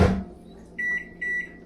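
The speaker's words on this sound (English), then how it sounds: "We're gonna put this in the microwave." A microwave oven reheating pizza gives a short thump as it is shut, then a low hum under two bright electronic beep bursts. The sound is close and there is no talking.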